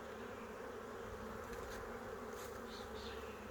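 Honeybees buzzing steadily from an open, packed hive during an inspection, a dense continuous drone close by with a few louder passing buzzes from individual bees.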